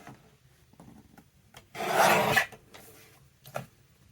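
Paper pocket corners for a junk journal are rounded by hand, with one loud, close scraping rub in the middle, fainter brief scratches before it and a short rasp near the end.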